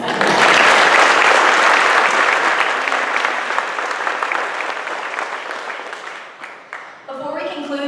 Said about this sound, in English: Please join me in a round of applause for all the business representatives here today